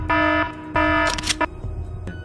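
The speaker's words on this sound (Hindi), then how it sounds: "तुरंत अलार्म्स बजाए जाते हैं" A prison alarm at Alcatraz sounds in loud harmonic blasts, two long tones broken by a short gap, followed by a brief burst of clatter and fainter ringing.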